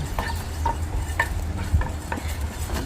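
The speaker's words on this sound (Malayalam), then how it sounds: "അരി വറുത്തു റെഡി ആയിട്ടുണ്ട്" Rice dry-roasting in a pan for homemade sambar powder is stirred with a spoon, giving close, repeated scraping and light clinking strokes in an uneven rhythm over a low steady hum.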